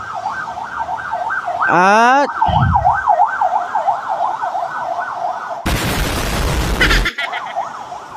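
An ambulance siren wails in a steady rising-and-falling cycle as it passes a motorcycle dealership, loud and nearby, with a horn blast, a burst of broadband traffic noise and a brief voice underneath.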